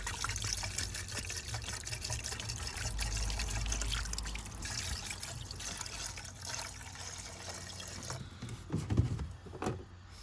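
Water is poured into a tank, a soft continuous trickle and gurgle at low level, with a brief louder splash near the end.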